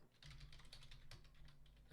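Rapid clicking keystrokes on a computer keyboard, quiet and steady with a few louder taps, heard alone without speech.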